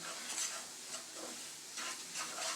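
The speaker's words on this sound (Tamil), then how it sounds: "நல்லா கொஞ்சம் நேரம் நல்லா பொன்னிறமாக வறுத்து எடுத்துக்கலாம் அந்த நெய்லேயே" Semolina roasts in ghee in a pan while being stirred, making a soft, continuous sizzle with gentle scraping swells, faint and close, with no voices.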